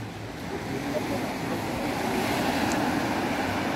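Steady broadband wash of Black Sea surf along the Adler embankment, continuous and moderately loud, with a faint rumble underneath and no distinct voices.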